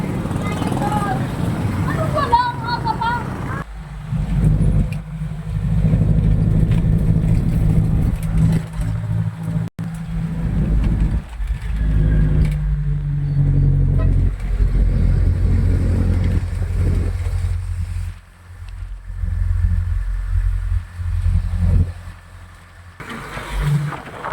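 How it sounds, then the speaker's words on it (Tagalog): A jeepney ride at night brings a loud, continuous engine drone and road rumble from inside the vehicle, rising and easing with speed, while voices talk over it. "Sakay tayo ng jeep. May jeep na."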